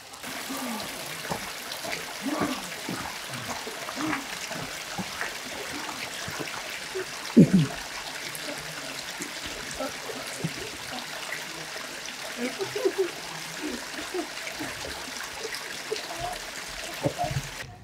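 Low stream water trickling and flowing steadily over stones at a fly-fishing spot, a soft continuous wash with occasional small splashes, fairly close.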